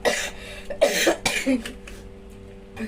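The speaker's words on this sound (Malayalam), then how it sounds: "ഈ ചുമ വരണം" A few sharp coughs up close, three or so quick bursts in the first second and a half, then quiet.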